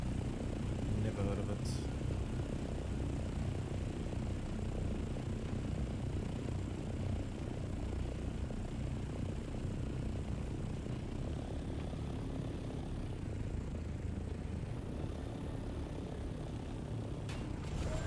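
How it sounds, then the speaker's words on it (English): A helicopter in the Dune Awakening video game flies and comes in to land, a steady droning rotor-engine roar filling the whole stretch at moderate loudness, with a couple of brief sharp clicks. "Can you like land in a reasonable way, helicopter?"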